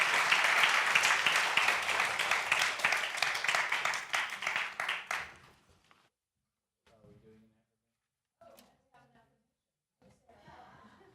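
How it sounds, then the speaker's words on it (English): A church congregation applauds at a Sunday service, a dense burst of clapping that fades out after about five seconds, followed by near silence and a few faint voices. "let's give Rita Marie a big round of applause for her share"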